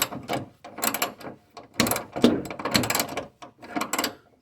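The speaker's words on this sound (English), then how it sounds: "ratchet and the socket on there, and it's almost out" Ratchet and socket backing out the lower front bolt on the driver's side fender of a GMC Yukon XL, bursts of rapid clicking pawl ticks in short irregular runs, close and fairly loud.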